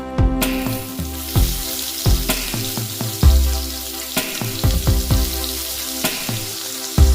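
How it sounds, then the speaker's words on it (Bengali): Sliced onions frying in oil in a kadai after whole garam masala tempering, a loud close sizzle punctuated by repeated metallic scrapes and knocks of a spatula stirring at an uneven rhythm. "পেঁয়াজটাকে একটু খুব ধৈর্যের সাথে ভাজতে হবে।"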